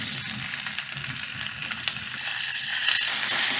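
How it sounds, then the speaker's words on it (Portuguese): Meat frying in toasted sesame oil in a pan for curry ramen, a loud steady hiss and crackle that grows slightly as it cooks, with occasional clinks and scrapes of stirring, no voices. "E fritar até dourar."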